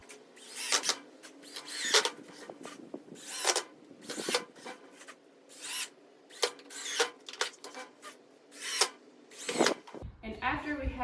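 Power drill driving screws into wood while building a pedestal table base, a series of short whirring bursts with pauses between each screw, close and moderately loud, with some handling noise.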